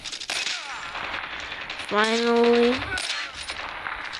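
Short bursts of weapon fire crack in a Call of Duty multiplayer match, sparse and punchy around a sustained tonal voice in the middle, where a person briefly speaks.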